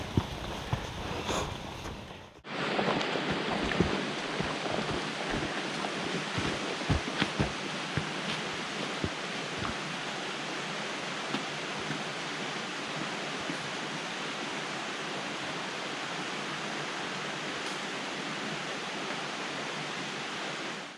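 A river rushing past a hiking trail near Foss Lakes, a broad steady roar of flowing water that starts abruptly after a brief muffled moment and carries on evenly, with a few faint knocks and footsteps, no talking.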